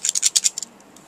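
Scissors snipping through a paper card mat: about half a dozen quick crisp cuts close to the mic in rapid rhythm, then a couple of faint ones, with no talk over them.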